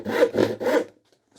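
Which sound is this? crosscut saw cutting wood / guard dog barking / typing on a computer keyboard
crosscut saw cutting wood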